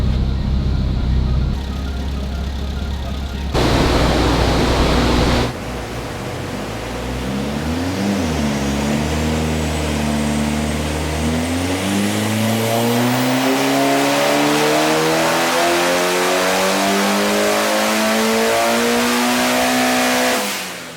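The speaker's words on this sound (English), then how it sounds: "Start up the car and do some runs" A Mitsubishi Evo 8 fitted with different camshafts starts up, then its engine climbs in a long, loud, rising rev sweep during a test run, pitch steadily increasing to a high wail before cutting off.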